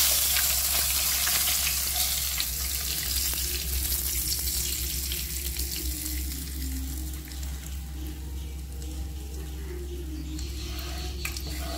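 Fish fries in a pan of oil with curry leaves, a dense, loud, continuous sizzle with a fine crackling hiss and a steady low hum beneath it, easing slightly after the midpoint.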